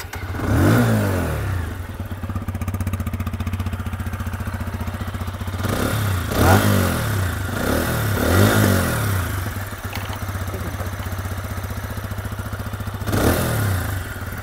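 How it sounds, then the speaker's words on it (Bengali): A 2025 TVS Apache RTR 160 2V Black Edition motorcycle idles with a steady exhaust thrum, broken by several sharp throttle blips that rise and fall. "চলুন এবার বাইকটার আমি এক্সস্টের সাউন্ড আপনাদেরকে আমি শুনিয়ে দেখাচ্ছি"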